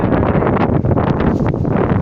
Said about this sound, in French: il y a un peu beaucoup de vent, je crois que vous l'entendez à la caméra